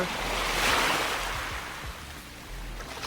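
Sea waves surging and washing, a broad steady roar that swells and then eases, close and loud with some wind rumble, and no voices.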